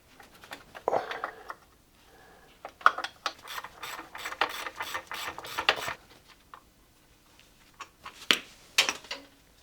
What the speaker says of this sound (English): I'm gonna crack loose the lock nut and completely unwind the tension on that bolt up there